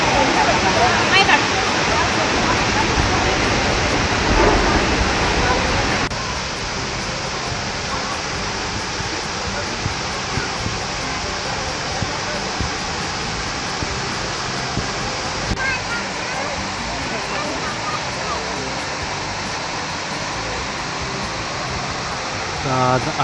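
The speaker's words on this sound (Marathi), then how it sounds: "आर्टिफिशियल धबधबा बनवलाय." An artificial waterfall pours into a park pond in Thane, a steady close rush of falling water whose level drops slightly partway, with a voice speaking over it.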